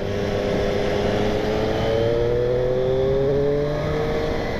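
A Triumph Street Triple S 660 motorcycle engine hums steadily up close, its pitch slowly rising as it accelerates, with constant wind noise throughout.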